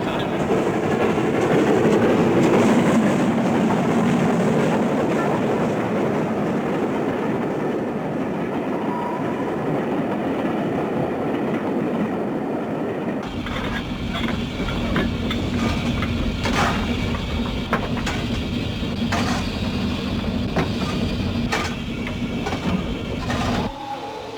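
The Flying Scotsman steam locomotive, 4472, rumbles steadily along the rails, a dense roar that shifts partway through to a lighter rhythmic clatter of wheels over track joints.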